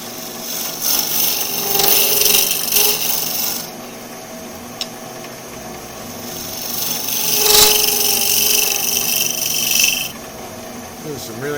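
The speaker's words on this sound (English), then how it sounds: "There's some really nice shavings just peeling out of there." A turning tool cuts wood on a lathe, scraping and rasping loudly as shavings peel away, in long passes broken by a quieter stretch midway, with a voice speaking at times.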